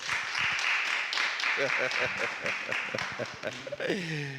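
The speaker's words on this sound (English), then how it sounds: "A round of applause for yourselves" Audience applause rolls along as a moderate wash of clapping while a person talks over it near the end.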